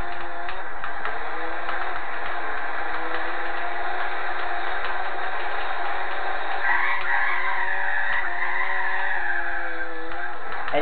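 Engine of a Mazda race car in Gran Turismo 4, a steady high-revving drone whose pitch shifts and rises partway through, loud and continuous with no talk over it.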